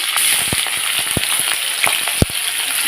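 Nigella seeds, chopped onion and green chilies crackle in hot oil for a fish chorchori, a bright continuous sizzle punctuated by quick pops and spatula clicks.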